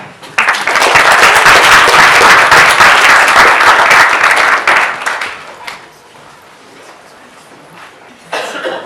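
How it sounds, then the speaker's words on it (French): An audience at an Innov'Paris event applauds a speaker being called up, loud dense clapping for about five seconds that tapers into scattered claps and murmurs, then a brief renewed burst. "Et on l'applaudit."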